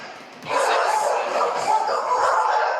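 Dogs barking and yipping inside a home run as a puppy mill, a dense, continuous jumble of overlapping barks and whimpers from several animals, fairly loud and close, with a restless, crowded texture.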